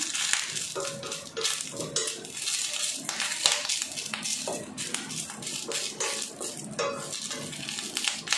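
Metal spatula scraping and clinking against a pan as curry leaves are stirred and roasted, a continuous busy rattle with no talking.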